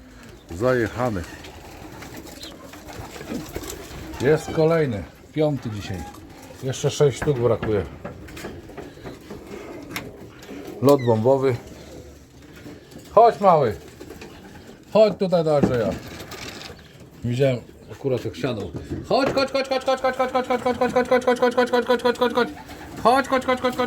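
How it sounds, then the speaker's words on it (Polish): Racing pigeons coo in soft, rounded bursts after returning from a race, alongside people talking, ending in a steady, rapid burbling coo near the close. "jest kolejny gołąb"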